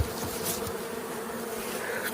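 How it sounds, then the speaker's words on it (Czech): Honeybees from a split colony in a Jumbo hive hum steadily and densely at close range, a constant buzzing drone with no voices. "včely z oddělku, vychovaný do celého jumba."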